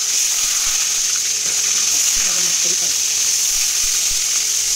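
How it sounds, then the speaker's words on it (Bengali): Brinjal pieces frying in hot mustard oil, a steady, even hiss of sizzling with faint clinks and stirring underneath, close and continuous throughout. "এবার আমি এই বেগুনগুলো ছেড়ে দেবো। অল্প অল্প করে ভেজে নেব।"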